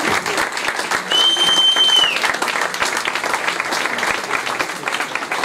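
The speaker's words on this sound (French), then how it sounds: "je voudrais qu'on applaudisse et qu'on fasse un peu de bruit tout simplement pour dire merci à vous" Audience applause fills a press-conference room with dense, steady clapping from a crowd throughout, and a brief whistle-like tone rises over it partway through.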